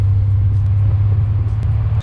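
A Corvette driving, heard from inside as a steady, loud, low engine drone with no talking.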